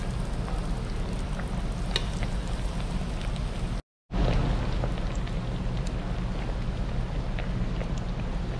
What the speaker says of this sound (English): while I've got a couple more pieces frying